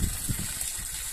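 Spring water gushing from a fountain at a picnic shelter, a steady loud rushing splash close by with a few lower sloshing pulses, continuous and with no voices.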